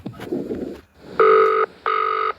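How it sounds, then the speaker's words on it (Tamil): Phone ringing for an incoming call in the horror video game Baby in Yellow: two loud, clear electronic ring bursts of about half a second each, following some brief rustling and clicks. "இப்போ எடுத்தோன்னே நம்மளுக்கு ஒரு ஃபோன் கால் வருது."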